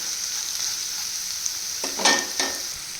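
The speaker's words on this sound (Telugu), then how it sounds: "మిక్స్ చేసి ఒక వన్ మినిట్ ఫ్రై అవనిద్దాం" Bitter gourd with tamarind leaves fries in a pan, a steady hissing sizzle broken by a couple of short scraping stirs near the end, close and without talk.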